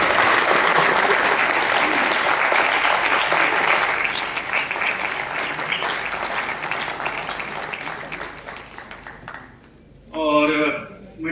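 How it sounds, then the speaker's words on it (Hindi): Loud applause from an audience at an LIC agency event, dense and sustained for about nine seconds before tapering off, then a short burst of voice near the end. "एक बार जोरदार ताली प्लीज।"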